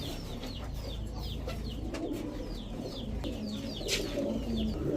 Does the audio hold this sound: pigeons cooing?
yes